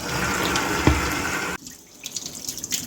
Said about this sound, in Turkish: Şöyle yine üzerine su koyalım.